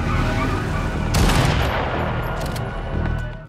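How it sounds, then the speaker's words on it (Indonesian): Rapid gunfire erupts during a robbery in a film scene, a loud continuous burst of shots with sharp cracks over a dense, noisy background. "Agent Hux yang satu mobil dengan Bowen tiba di tempat perampokan dan melesatkan beberapa tembakan"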